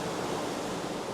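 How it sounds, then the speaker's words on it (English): Ocean waves heard from inside a tunnel, a steady broad rushing wash with no distinct breaks, moderately loud and unbroken over a brief stretch, no voices. "you can hear the sound of the waves"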